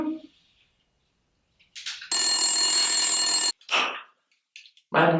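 A telephone rings once in a loud, sustained burst of about a second and a half, set between short bursts of other noise in a quiet indoor room.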